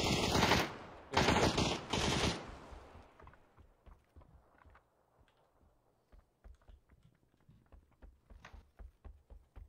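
Gunfire in the online shooter PUBG: loud automatic bursts up front, then fainter, scattered single shots and rapid distant pops continuing in an irregular rhythm.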